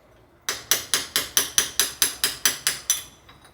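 A hammer taps the bushing out of a car starter motor's rear cover with about twelve evenly spaced sharp metallic knocks, close and fairly loud, followed by a couple of fainter taps.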